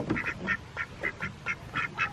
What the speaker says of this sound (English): You ducks having fun in the rain?